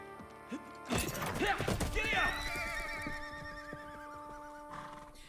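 Horses whinnying loudly, followed by clip-clopping hooves, in the western video game GUN, with game sound effects and a voice talking over the action.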